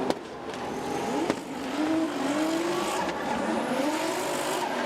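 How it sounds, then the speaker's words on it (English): A drift car with an exhaust leak passes the judges' stand at Okayama International Circuit during a Formula Drift Japan Top 16 round, its engine droning steadily with rising and falling pitch over tire noise, heard at moderate distance. "Sounds like an exhaust leak or something when they're driving through the judges' stand."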